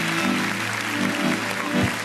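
Wedding guests applaud the band at a celebration, a sustained round of clapping filling the hall, steady and fairly loud, with faint music or voices murmuring low beneath it.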